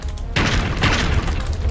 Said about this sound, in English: I've got all these explosions going off